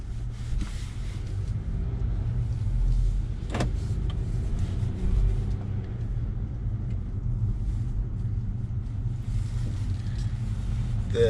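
A 2021 Acura TLX sedan pulls away after being shifted into drive, its low engine and road rumble steady and close throughout, with one brief click partway through and no talking.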